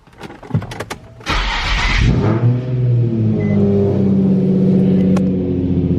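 A loud Nissan 350Z engine cranks and catches, then settles into a loud, steady idle with a deep rumbling tone after a brief rev.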